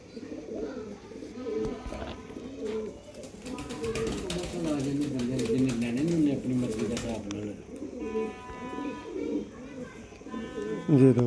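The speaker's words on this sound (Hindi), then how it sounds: "जी दोस्तों है कबूतर" Pigeons in a loft coo with soft, rolling calls throughout, mixed with steady chatter from people talking nearby.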